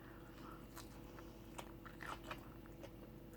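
Close, quiet crunchy bites and chewing on homemade soft tacos with tomatoes, several crisp crunches scattered over a few seconds, with no talking.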